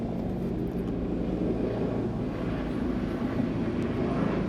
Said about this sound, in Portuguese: Deixa esse helicóptero passar aqui.